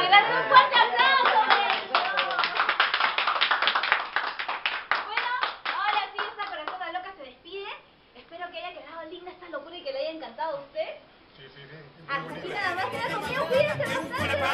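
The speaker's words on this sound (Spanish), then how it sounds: "Un fuerte aplauso." An audience bursts into strong applause, dense clapping that gradually thins into scattered claps, with crowd chatter underneath and a fresh swell of clapping at the end.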